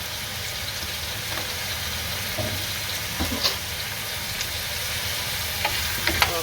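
Ground spices and ginger-garlic paste fry in a pan while being stirred, a steady broadband sizzle with occasional soft scraping clicks, alone and fairly close.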